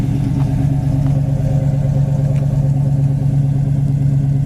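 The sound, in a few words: 1970 Dodge Challenger engine idling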